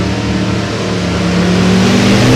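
A '51 Anglia with a 301 Chevy small block and another drag car rumble loud and steady at the start line of a hot rod reunion drag race, engine drone building toward launch, no voices.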